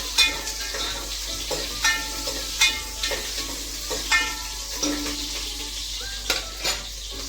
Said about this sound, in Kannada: ಅದು ಫುಲ್ಲು ಕೆಂಪಗಾಗೋವರೆಗೂ ಅದನ್ನು ಫ್ರೈ ಮಾಡ್ಕೊಳ್ಳೋಣ